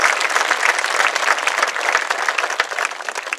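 An audience at a high school graduation ceremony breaks into sustained applause, dense clapping from a large crowd filling the hall, loud and continuous.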